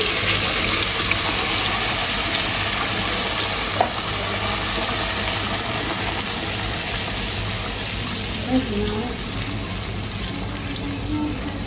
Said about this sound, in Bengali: দেখতে পাচ্ছেন আমি হলো এটা একটু সুন্দরভাবে কষাইলাম মশলাটা।